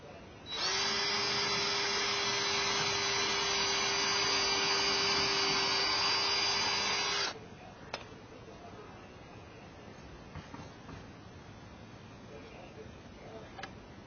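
A power drill drives a screw into the weather strip of a side door being installed in a flood-damaged house, giving one loud, steady high whine for about seven seconds before it cuts off, leaving quiet room noise with a few faint knocks.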